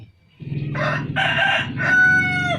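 A rooster crows loudly and close by, one long drawn-out call with rising and falling bursts, alone without any talk.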